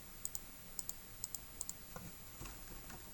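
Keystrokes on a computer keyboard while entering a math equation, heard as sparse, quiet paired clicks in small bursts with soft faint tapping toward the end and no voices.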